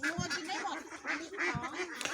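Ducks quack in several short bursts, fairly close, on a farm in Maha Sarakham, Thailand, with a noisy outdoor background and some voices mixed in.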